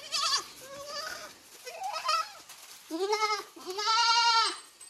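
Osmanabadi goats and kids give several close, clear bleats in a row, the last two louder and more drawn out.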